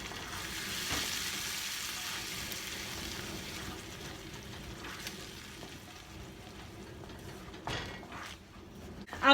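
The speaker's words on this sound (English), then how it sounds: "We'll saute it for a few minutes now." Egg curry gravy sautés in a pan over high flame with a soft, steady sizzle and occasional stirring scrapes, fairly quiet and close, with no voices.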